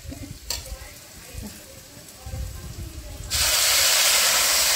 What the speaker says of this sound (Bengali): এই যে এখন জলটা দিয়ে দেব।